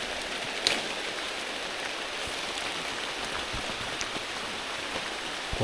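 Steady rain on a mangosteen orchard during the harvest, a continuous broadband hiss with scattered drop patter and a few brief knocks, fairly close and unbroken throughout.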